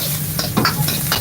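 Shallots and garlic frying in oil in a pan, a steady close sizzle with a spatula stirring and scraping in several quick strokes.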